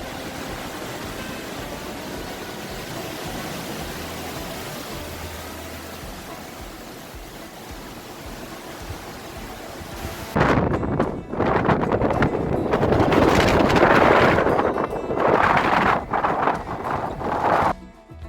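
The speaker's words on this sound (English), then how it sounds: "Let's see if another gust comes." Wind gusting on a ridge in Linville Gorge, a steady airy roar that suddenly surges into loud buffeting blasts against the microphone.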